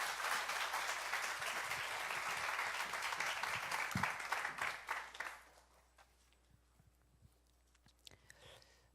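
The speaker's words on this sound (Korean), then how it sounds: "우리 큰 박수로 은혜를 사모하며 목사님 환영합니다" Warm, sustained applause from a church congregation welcoming a guest pastor at a revival service. It fills the first five seconds, then gives way to near silence with a few small shuffles.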